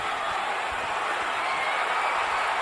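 Boxing arena fans cheer at fever pitch for a Yuri Foreman bout, a thick continuous roar of many voices, loud and sustained with no pauses.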